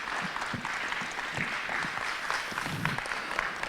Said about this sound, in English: they deserve a tremendous congratulations and a round of applause